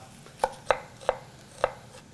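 A knife chops onion coarsely on a board in four sharp, separate thuds at an uneven, unhurried pace. The strokes are close and fairly quiet, with no talking.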